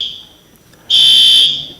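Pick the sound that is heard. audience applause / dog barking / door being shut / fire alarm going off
fire alarm going off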